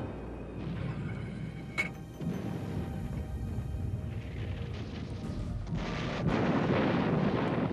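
A massive artillery barrage of nearly 1,000 big guns pounds the hillside of Monte Camino during the Battle of Monte Cassino, making a continuous, heavy rumbling roar with booms layered on top.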